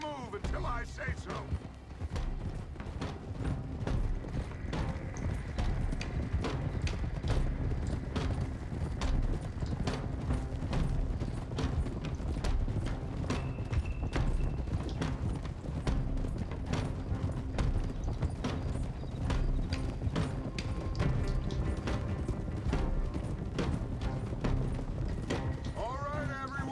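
Horse hooves clip-clop steadily in a video game, a continuous rhythmic trotting patter, fairly close and moderately loud, with game sounds underneath and voices talking over it.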